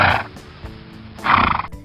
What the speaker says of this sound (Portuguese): O cavalo.